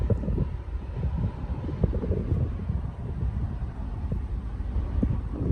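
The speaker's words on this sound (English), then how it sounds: "Nice day today, bit windy, and it still is." Steady wind buffets the microphone on the Mersey River at Devonport, Tasmania, a continuous low rumbling roar throughout, loud and close, with no voices.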